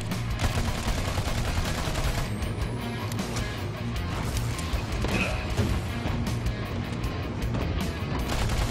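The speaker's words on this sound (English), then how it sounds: "I'm gonna shoot his legs, apparently." Rapid gunfire in the Battleborn video game as a player shoots a galactic emperor mini-boss in the legs, dense bursts of shots with crashing impacts and game-battle noise, loud and continuous.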